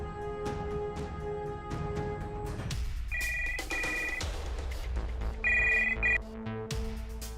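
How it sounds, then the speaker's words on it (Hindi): A telephone ringing while calling someone's home, short repeated electronic ring bursts over loud dramatic background music with sharp stings. "उसके घर पे फोन करके देखती हूँ एक बार।"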